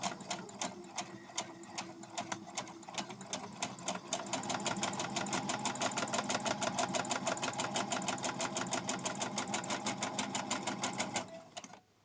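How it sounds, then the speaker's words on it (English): A sewing machine runs a quarter-inch seam on 100% cotton for a face mask, starting with slower uneven stitching, then speeding into a steady rapid needle rhythm before stopping, close and quiet, with no talking. "I'm just going to make it, so do a 1/4 inch seam. If you put the pins this way, you can sew over the top of them."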